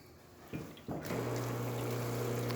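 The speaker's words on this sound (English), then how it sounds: "You can see we still got nice steady steam coming out from the group head." A couple of small clicks, then an espresso machine heavily built up with scale switches on with a steady hum and a stream of water and steam hissing and flowing continuously from the group head, close by.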